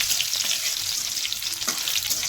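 Onions frying with cumin seeds in hot oil, a steady loud sizzle filling the whole stretch, bright and close with no voices.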